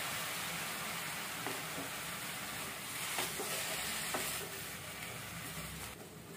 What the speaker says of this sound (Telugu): క్యారెట్, కొబ్బరి పచ్చి వాసన పోయిన తర్వాత హాఫ్ కప్పు కాచి చల్లార్చిన పాలు వేసుకుంటున్నాము.